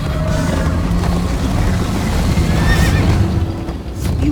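A galloping horse in Minecraft Story Mode: fast, steady hoof clatter throughout, and a sharp neigh rises over it partway through, loud and close.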